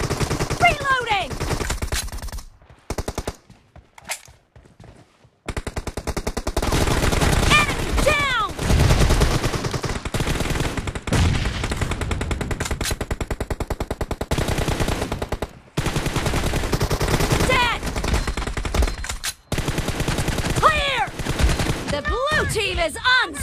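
M416 assault rifle firing on full auto in a shooter video game: dense, loud rapid-fire bursts with short pauses, layered with game effects and a voice speaking over the shooting.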